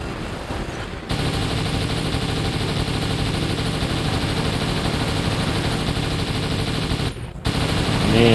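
Robot machine guns fire in the War Robots video game as one sustained, dense burst of rapid shots that cuts out briefly and then resumes, loud and continuous.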